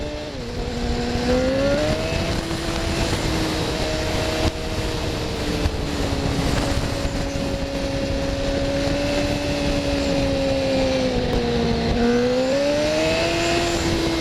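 A motorcycle engine holds a steady, loud drone through a quick turn on side streets, its pitch dipping and rising as the rider works the throttle, with constant wind and road noise underneath.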